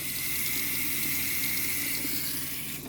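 Tap water pours steadily into a sink while shrimp and crab are rinsed for cooking. The flow is a constant, even hiss with no voices, and it tapers off right at the end.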